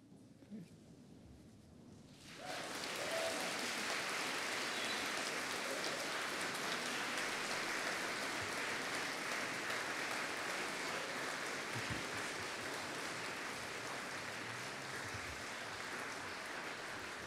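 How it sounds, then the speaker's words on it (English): Graduands at a university degree ceremony stand and give their supporters a round of applause, which rises suddenly after a quiet moment into a loud, sustained wash of clapping filling the hall. "give a round of applause to your supporters"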